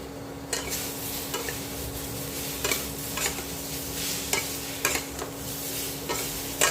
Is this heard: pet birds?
no